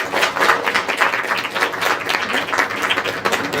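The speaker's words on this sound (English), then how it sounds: "A big round of applause." An audience claps steadily at an academic proteomics and AI event, giving a brief, even round of applause from a modest indoor crowd that sounds fairly close and full.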